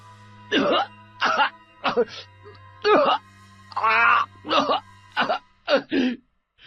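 Repeated rough, wet coughing bursts as mud comes up from the mouth, close and loud, with a groaning quality, over a low steady hum.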